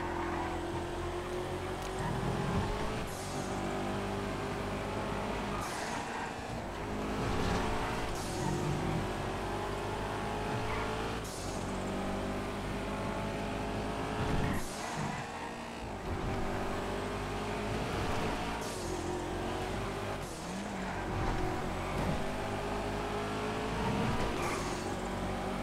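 A small race car in the GTA FiveM racing game drones continuously at high revs, with the engine pitch rising and dipping through gear changes and a few sharp bumps during a race.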